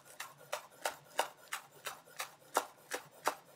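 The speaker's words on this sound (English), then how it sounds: "I have 4 scallions and they've been washed really well. I'm just going to go ahead and slice these up." A knife slices washed scallions on a cutting board in a steady, quick rhythm of about ten crisp chopping taps, close and fairly quiet, with no talking.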